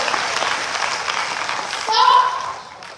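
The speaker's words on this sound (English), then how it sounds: "Y'all clap for me." Applause from an audience at a national event launching a digital training program, a steady clatter of clapping that swells briefly near the end, heard alone without talk.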